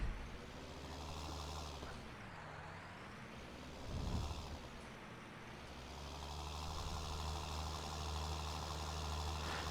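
A John Deere 7810 tractor engine in Farming Simulator 19 drones steadily at an idle-like hum, with a brief louder surge around the middle before settling back into a constant mechanical rumble, no talk.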